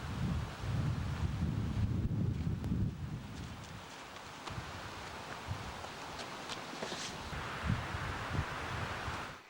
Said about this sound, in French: le site n'est plus que balayé par le vent à la senteur de pin